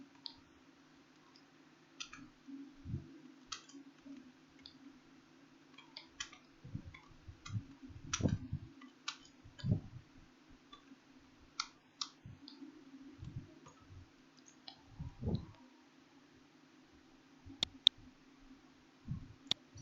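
Computer keyboard typing and mouse clicks in Adobe Photoshop 7.0 come as scattered close taps in short bursts over a quiet room hum, with no speech.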